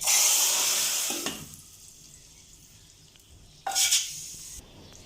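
A loud hot sizzle bursts out as a spiced tempering is poured into cooked lentils, fading into quiet, followed by a second brief hiss and a clink of a utensil.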